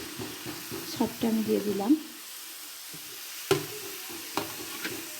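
Onion, cabbage and carrot sizzle softly in a pan for soup as a utensil scrapes and stirs them, a low crackle with a few louder knocks, while a voice speaks briefly over it.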